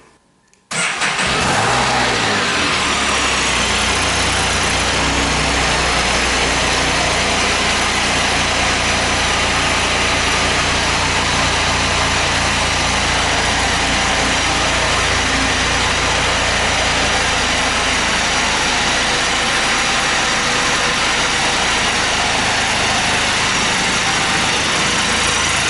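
A Can-Am Spyder F3 three-wheeled motorcycle engine cranks and catches after a brief silence, then settles into a loud, steady, close idle that runs unbroken for over twenty seconds.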